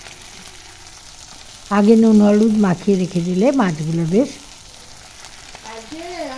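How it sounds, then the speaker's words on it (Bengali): Small fish rubbed with salt and turmeric fry in a pan, giving a steady crackling sizzle. A voice talks over the frying through the middle of the sound. "তবে মাছগুলো একটু লাল করে ভেজে নিতে হবে।"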